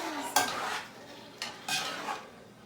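Pasta carbonara with eggs, Parmesan and green peas being stirred in a pan: scraping, clattering bursts of utensil against metal in two main spells, close and moderately loud, no talking.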